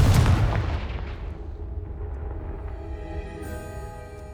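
A Confringo blasting spell in Hogwarts Legacy explodes against a pile of blocking debris, a heavy booming blast up front that rolls off into a long decaying rumble with faint tonal ringing.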